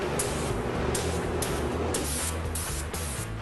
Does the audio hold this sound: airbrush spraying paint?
yes